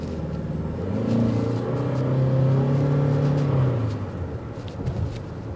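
A 2024 Toyota Venza XLE accelerates, heard from inside as a moderate engine hum that swells and holds for a few seconds before easing off, with no talking.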